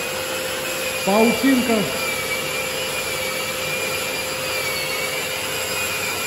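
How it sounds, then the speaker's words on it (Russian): A drywall sander on a long pole runs over finishing putty on apartment walls before painting, a steady close whirring drone lasting throughout, with one short spoken word near the start. "Зачищаем жирафой, потом будем поправлять макитой и затем еще вручную подгонять."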